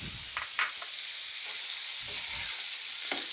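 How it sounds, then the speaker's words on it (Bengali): Boiled beef liver tipped into spiced masala that has been cooked down until the oil separates, frying with a steady, close sizzle and a few brief stirring scrapes and clinks. "এখন আমি এর মধ্যে দিয়ে দিব সেদ্ধ করে রাখা কলিজাগুলো"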